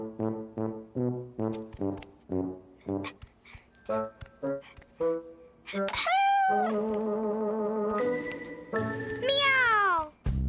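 A cartoon cat in a children's animated show meows in a quick run of short, evenly spaced calls, then stretches into longer, drawn-out and bending meows, all bright and close.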